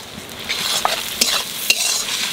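Salted onions fry in a pan with a bright close sizzle, punctuated by several sharp clinks and scrapes of a utensil stirring them.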